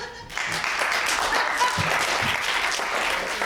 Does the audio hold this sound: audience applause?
yes